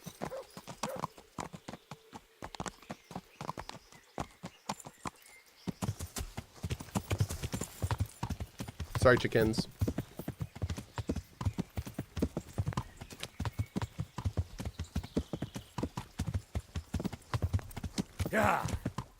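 Horse hooves clip-clopping over terrain in the medieval video game Kingdom Come: Deliverance, a steady rhythm of close hoofbeats that starts quietly and grows denser and louder, with someone talking briefly over it.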